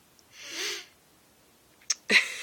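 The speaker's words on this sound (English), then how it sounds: "I'm going to sneeze" A sharp intake of breath builds up, followed by a short, forceful sneeze close to the listener.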